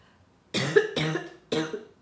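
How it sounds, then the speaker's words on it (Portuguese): Three close, dry coughs in quick succession, the first two run together and the third after a short pause. "Eu tô com tosse"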